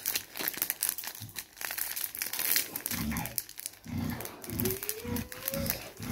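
Plastic zip-lock bags crinkle and rustle as they are handled during an unboxing, a close, busy crackling that comes in bursts over about six seconds with no talking.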